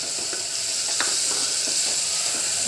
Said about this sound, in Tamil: வெங்காயம் நல்லா வதங்கிட்டே இருக்குது. நம்ம 1 கப் தக்காளியை கூட ஆட் பண்ணுறோம்.